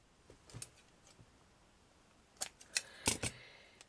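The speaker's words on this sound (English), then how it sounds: "I get my scissors, just easier to cut with scissors" Scissors snip through material for a miniature seaside surfing shack, a few soft faint cuts early, then several sharper, closer snips near the end over quiet background hiss.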